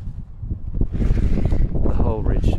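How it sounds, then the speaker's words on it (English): Strong wind gusting across a dormer rooftop during DIY work laying interlocking tiles on new membrane and battens, a steady loud roar with buffeting on the microphone and brief talk over it. "Christ, it's windy."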